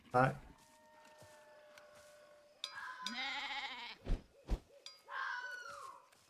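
A cow in the horror video game I Hate This Place lets out drawn-out, bleat-like calls in a few separate bursts, moderately loud, with a person talking in between.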